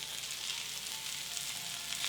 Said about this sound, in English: we're gonna put in our mushrooms and our shallot